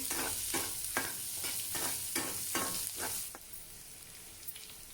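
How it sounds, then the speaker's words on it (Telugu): Green chillies and onion fry in hot tempering oil with a steady sizzle, broken by repeated scraping stirs of a spoon in the pan, fading quieter near the end. "పోపు కాస్త వేగిన తర్వాత పచ్చిమిర్చి ఆనియన్ వేసేస్తున్నాను ఇవి కాస్త ట్రాన్స్పరెంట్గా వేగాలండి"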